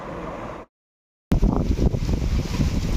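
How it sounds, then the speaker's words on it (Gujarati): Strong wind during rain roars and buffets the microphone in a dense low rumble, cut by a brief dead-silent gap before the gusts return. "પવન પણ બહુ પવન છે એકદમ"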